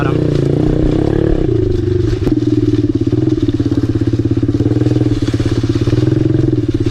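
A Honda CRF110 dirt bike rides close by, its small engine putting out a loud, steady chugging drone with a quick rev change near the start, running continuously throughout.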